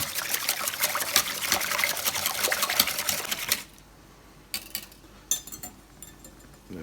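Cream and milk for a quiche filling are whisked briskly in a bowl, a rapid, close clatter of the whisk for about three and a half seconds, then quiet with a few scattered taps and clinks, without speech.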